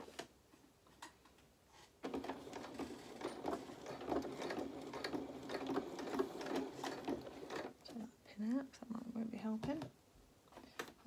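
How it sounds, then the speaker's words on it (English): A sewing machine runs in a steady, rapid mechanical whirr for several seconds, stopping and starting near the end, with a voice speaking briefly. "pull everything through the sewing machine"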